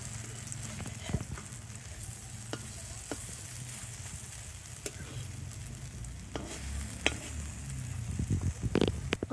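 Fritters frying slowly in oil over a low flame, with a soft, continuous sizzle, scattered taps and scrapes from turning them, and a low voice now and then.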